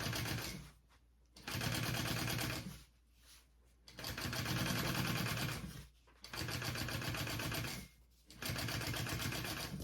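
Close by, a sewing machine stitches a tote bag lining seam in four steady runs of rapid rhythmic chatter, with short pauses between the bursts.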